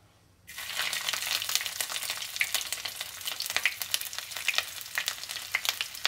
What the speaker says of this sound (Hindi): मैंने कढ़ाई में तेल गरम कर लिया है, तो आइए अब इसमें हम एक एक करके सब्जियां डालते हैं।